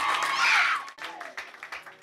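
Congregation at an overnight prophetic church service clapping for the Lord, a brief burst of applause that thins into scattered claps with voices mixed in.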